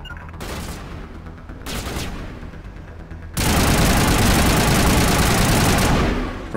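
Gunfire in the Mass Effect video game: a few separate bursts of shots, then a loud, sustained barrage of rapid fire that runs for about three seconds before easing off.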